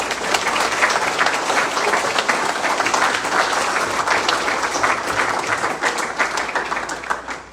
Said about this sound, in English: So let's give all the candidates a round of applause.